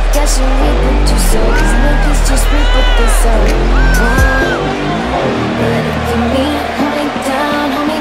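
Arena crowd in the WWE 2K wrestling video game, a steady loud roar of cheering and whoops filling the background during a SmackDown tag team entrance, with commentators talking over it and music-like tones rising and falling.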